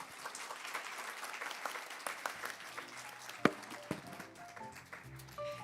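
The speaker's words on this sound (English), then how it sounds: "Give the speakers and the panelists to give a warm round of applause." A conference audience gives a warm round of applause to the speakers and panelists at the close of a session, fairly faint crowd clapping with one loud nearby clap partway through.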